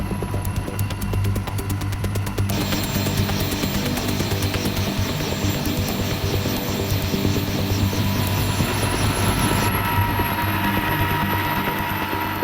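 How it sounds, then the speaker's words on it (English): A light aircraft landing to drop off passengers at a remote crayfishing outpost, its engine throbbing loudly and steadily throughout with a strong low pulsing drone and a shift in tone partway through. "We're just landing here to drop off some passengers."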